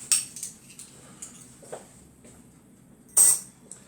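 Two teaspoons clicking against each other while shaping choux pastry dough for chouquettes: a few sparse, light metallic clinks, one sharper tap near the end, over a quiet room.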